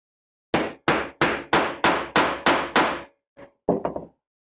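Hammer blows drive a metal stud to set a clothing snap: seven sharp, loud, evenly spaced strikes ring out, followed after a pause by a lighter tap and a short cluster of quicker knocks.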